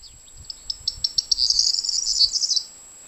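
A bird sings in the countryside with a run of quick, high chirps that speed up into a bright trill, clear and fairly close over a faint low rumble, then stops.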